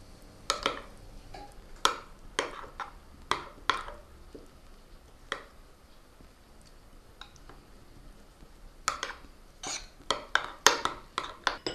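A spoon stirs tuna salad sauce in a bowl, making sparse, faint clinks and taps against the dish in irregular clusters with quiet pauses between them.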